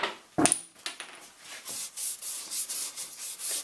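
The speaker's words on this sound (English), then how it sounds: "All of the hand sanding I'm doing in this direction." Hand sanding wooden gymnastic rings with fine-grit paper, a close, soft rasping rub in steady back-and-forth strokes after a brief sharp knock near the start, with no voices.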